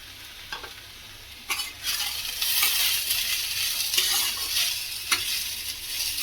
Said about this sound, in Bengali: ভালো করে এটা নেড়ে নেব